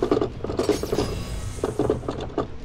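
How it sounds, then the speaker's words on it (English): Rapid keyboard key presses during a quick time event in the video game Renegade Ops, a series of close, sharp clacking taps in irregular bursts over game sounds. "That's the sound of doing a QTE on a keyboard."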